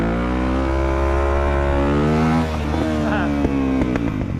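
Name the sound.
motorcycle engine revving during a wheelie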